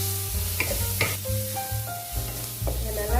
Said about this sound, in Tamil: ஆனியன் கொஞ்சம் வதங்கியிருக்கு.